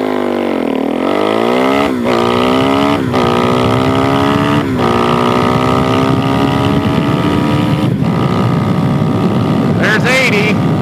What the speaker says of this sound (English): That's a 90-mile-an-hour pull on a DRZ 470 stroker.